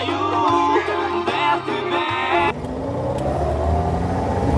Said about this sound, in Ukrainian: Дід, машина йде!